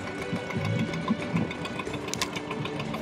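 A John Deere 720 tractor engine runs steadily in a small-town St. Patrick's Day parade, a close, continuous rhythmic chugging with some background street noise.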